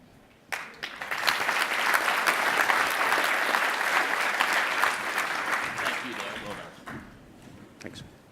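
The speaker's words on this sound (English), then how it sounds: "Give him another round of applause" An audience applauds after a talk at a cyber security conference, a dense burst of clapping that swells quickly, holds steady for several seconds and then fades, with a voice speaking briefly at the end.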